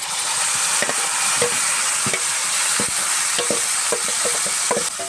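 Boiled banana flower frying with salt and spices in a pan, a dense steady sizzle throughout with regular scraping knocks as it is stirred, close and loud, no voices.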